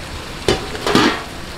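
Shredded cabbage tossed into a hot pan while cooking Filipino pansit bihon, two sharp sizzling bursts as it hits the oil and is stirred, close and fairly loud over a low background hiss.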